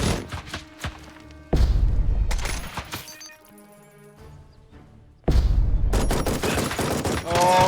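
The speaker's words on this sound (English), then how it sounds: "Oh, okay, that MG does work." A machine gun fires in a combat video game in loud, dense bursts of rapid shots that stop for a couple of seconds and then resume heavily, with thuds and a voice briefly under the gunfire.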